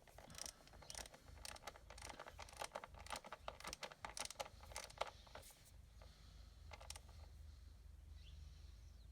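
Faint, quick clicking bursts of a torque ratchet tightening valve cover bolts on a Chevy Trax, Cruze or Buick Encore, close up in a quiet space, fading to a low hum, no talk.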